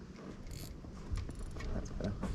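Fishing reel drag being tightened while fishing along mangrove edges, a quick run of close mechanical ratchet clicks over steady outdoor background noise.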